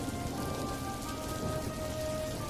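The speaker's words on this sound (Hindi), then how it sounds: "अरे ये क्या, बारिश शुरू हो गई।" Steady rain patters on a surface, dense and even throughout, with no voices and a faint tonal hum underneath.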